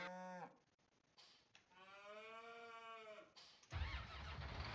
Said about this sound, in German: Kühe melden sich.